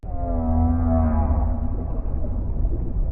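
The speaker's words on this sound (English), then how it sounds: "even a whale?" A long, low, moaning whale call with rich tonal harmonics, sustained and loud, slowly fading into a rumbling wash.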